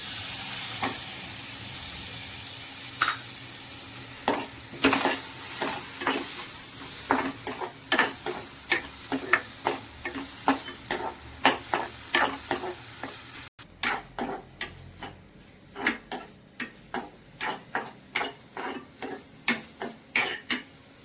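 Tomato frying in a pan for potato sagu, a hissing sizzle under a rhythmic series of spatula stirs and scrapes, roughly one every half second, close and fairly loud, with a brief cut partway through.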